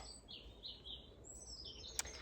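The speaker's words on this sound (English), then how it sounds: "A blackbird, probably." A blackbird sings soft, faint warbling phrases in a garden, heard at a distance over low background rumble, with one sharp click near the end.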